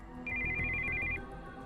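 Cell phone ringtone for an incoming call in Steins Gate 0, a short steady electronic warble lasting about a second. It sits at moderate level over a dense, low background score.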